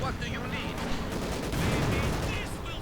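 Ostwind anti-aircraft tank firing on Guards infantry in a real-time strategy game match. Rapid bursts of automatic fire and explosions pile up densely at a fairly low level, with commentary talking over them.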